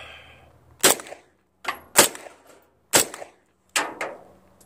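PTR 9CT pistol fired unsuppressed with American Eagle 124 grain subsonic ammunition, four sharp, loud single shots spaced about a second apart, each trailing a brief echo, outdoors with no talking.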